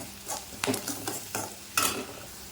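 A spoon stirs salted potato fry in a pan, giving a few soft scraping strokes against the metal over a faint background sizzle, close and quiet, with no talking.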